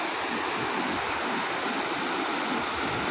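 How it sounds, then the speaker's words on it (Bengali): Water pouring over a man-made overflow at a scenic spot, a steady, dense rushing wash like a small waterfall, close and continuous with no talk. "জলটাকে ওভারফ্লো করে সুন্দর করে তৈরি করেছে।"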